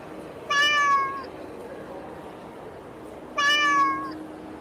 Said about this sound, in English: It's a bunch of actual live kitty cats.